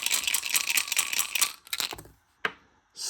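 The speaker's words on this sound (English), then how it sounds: "I'm shaking these dice. You can hear them." Dice rattle and clatter as they are shaken by hand for a tabletop baseball game replaying a 1984 Cubs at Phillies matchup: a dense, close burst of clicking, then a few sharp isolated knocks before a short pause.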